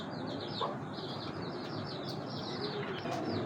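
Faint cooing from a Sapchila breed pigeon, a few soft calls set against a constant background hiss, with no talking.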